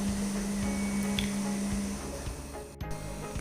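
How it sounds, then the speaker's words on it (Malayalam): Soft wet squishing as a turmeric face pack with honey is stirred into a paste, repeated gentle strokes close by with a faint steady tone underneath. "എല്ലാം കൂടി നന്നായിട്ട് മിക്സ് ചെയ്ത് നല്ല പേസ്റ്റ് പരുവത്തിലാക്കി എടുക്കുക"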